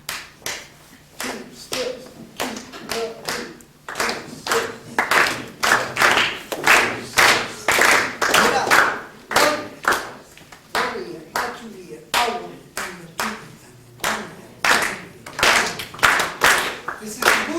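Rumba clave rhythm clapped by hands at an Afro-Cuban percussion clinic, sharp, loud claps in a repeating syncopated pattern, with a voice speaking briefly between phrases.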